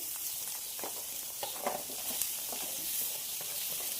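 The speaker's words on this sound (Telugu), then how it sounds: "ఇప్పుడు మనం కట్ చేసుకున్న బీట్రూట్ అయితే ఇలా వేసేస్తున్నాం" Freshly cut beetroot pieces frying in a pan over a low flame, a soft, steady sizzle with faint scattered crackles and stirring, heard alone without talk.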